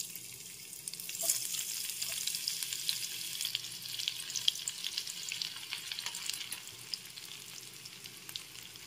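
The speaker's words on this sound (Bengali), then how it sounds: "পেঁয়াজ কুচিটা একটু ভেজে নিতে হবে।" Chopped onion sizzles and crackles in hot oil in a pan, a continuous bright frying hiss with small pops and occasional stirring, close and fairly loud with no talking.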